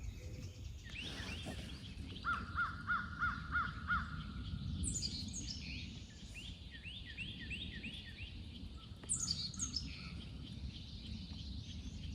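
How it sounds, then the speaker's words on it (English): Out in the Florida woods, a crow gives a series of faint, distant caws over a low outdoor rumble, with a quick run of calls followed by scattered later ones. "You occasionally hear a crow."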